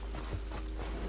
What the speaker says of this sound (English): That's my horse, stupid.